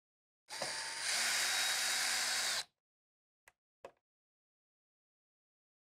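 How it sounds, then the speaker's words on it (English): A power screwdriver whirs steadily for about two seconds while backing screws out of the rear of a Furrion RV rooftop air conditioner, followed by two short mechanical clicks, close up with no talking. "Next, remove the screws in the rear of the air conditioner."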